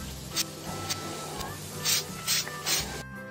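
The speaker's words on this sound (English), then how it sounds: "Spray some water first!" Several short bursts of water spray hiss in quick succession onto clothes before ironing in Sweet Baby Girl Daycare 4, each a brief soft whoosh, over light game music in the background.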